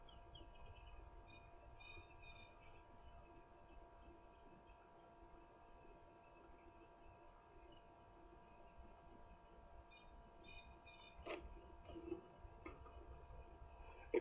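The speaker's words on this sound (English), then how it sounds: "those are cicadas on hot, humid days like this" A steady high-pitched drone of cicadas on a hot, humid day fills the background during a safari drive, continuous and fairly faint, with a few brief clicks near the end.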